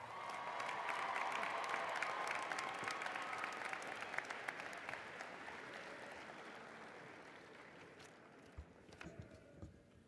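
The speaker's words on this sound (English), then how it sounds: "Graduates, one more applause. Let's celebrate them." A crowd applauds graduates at a winter commencement ceremony, dense clapping that swells early, then gradually thins and fades, leaving a few scattered claps and thumps near the end.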